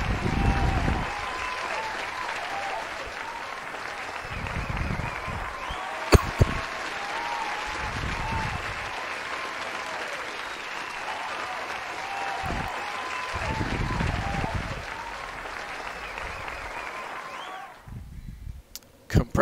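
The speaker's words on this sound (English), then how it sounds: "Compressed applause." Sustained, compressed-sounding applause with a dense, steady texture that cuts off abruptly near the end, with some low voice-like thumps underneath.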